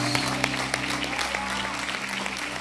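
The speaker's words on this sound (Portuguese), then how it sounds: "Aplaude, ele aplaude." A church congregation claps steadily in sustained applause, a dense patter of hands filling the room while a low organ or keyboard tone holds underneath.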